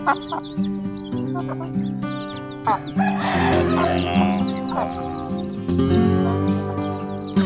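A hen clucks and cackles up close, with other chickens and a rooster's crow mixing in, busy and fairly loud throughout.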